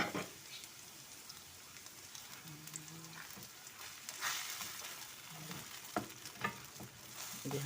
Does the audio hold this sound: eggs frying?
yes